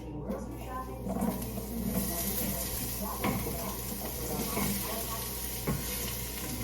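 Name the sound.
vegetables and green onion frying in a pan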